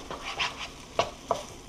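A whole egg is stirred through chicken fried rice in a hot pan, soft sizzling broken by three sharp scrapes of a utensil against the pan, close and alone.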